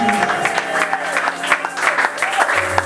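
Church congregation clapping and cheering in acclamation during a French-language worship service, sustained applause mixed with raised voices and crowd noise.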